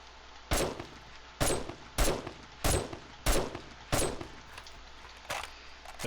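Gunfire in the survival game 7 Days to Die: about eight loud, sharp shots at a steady pace, roughly one every two-thirds of a second, with a metallic clang to each one over a quiet hum.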